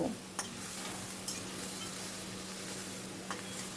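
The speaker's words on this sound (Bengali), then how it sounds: "নেড়ে নেড়ে মশলাটাকে ভালো করে ভেজে নিতে হবে।" Spice masala with ginger-garlic paste frying in a pan, a quiet steady sizzle with a few soft stirring scrapes, nearby and alone.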